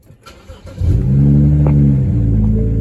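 A BMW E92 335i with a muffler delete cold-starts: a starter crank, then the engine catches and settles into a loud, steady, deep idle rumble close by.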